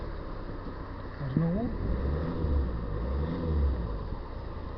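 A 2013 Ford Kuga MK2 engine turns over and settles into a steady, close idle rumble with slight rises in revs, while someone speaks briefly over it.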